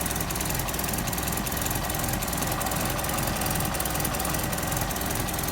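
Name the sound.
Morris 1100 engine running with an exhaust leak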